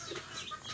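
Cockerels clucking at feeding time, a short burst of soft, close fowl clucks and murmurs with no talk over them.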